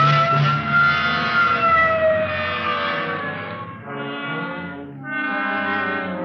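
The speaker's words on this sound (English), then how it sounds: "Okay, hit the siren." A loud siren blares in long, sustained tones that shift pitch and briefly dip before resuming, with no talking.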